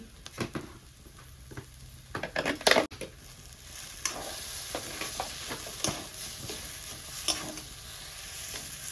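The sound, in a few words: potatoes frying in a pan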